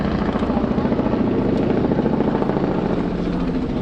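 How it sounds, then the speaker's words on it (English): A news helicopter thumps loudly and steadily close overhead, its rotor beating a fast, even rhythm the whole time. "You hear the news chopper above?"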